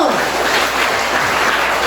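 A church youth fellowship congregation applauds in a dense, steady wash of clapping that stays loud and even from start to finish, with no voices over it.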